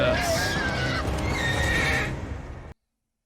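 A horse from a Game of Thrones episode whinnies in long, shrill, quavering neighs, loud and close, with a scene rumble beneath that cuts off abruptly.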